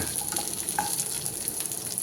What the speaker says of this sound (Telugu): ఇప్పుడు నేను ములక్కాడ ముక్కలు వేసుకుంటున్నా. ఇక్కడ బాగా ఫ్రై అవనిద్దాం.